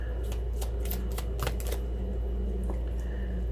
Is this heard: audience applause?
no